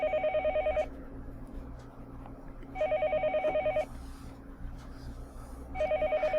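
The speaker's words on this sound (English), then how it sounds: "The phone suddenly rang." A telephone in the Higurashi When They Cry video game rings in three evenly spaced bursts of rapid electronic trilling, loud and clear over a low steady background, with quiet gaps between rings.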